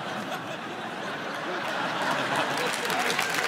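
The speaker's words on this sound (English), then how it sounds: "You're gonna applaud that?" A stand-up comedy audience gives a steady wash of applause mixed with scattered chuckles and crowd noise, swelling slightly toward the end.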